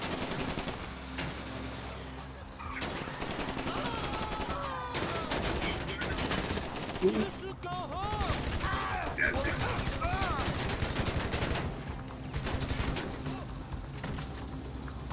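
Gunfire in GTA V rings out in rapid bursts, with automatic weapon fire mixed among single shots. It plays loud and constant over a busy game soundscape that has music and effects.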